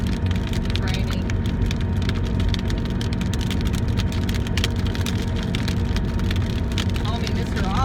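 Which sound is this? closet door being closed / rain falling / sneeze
rain falling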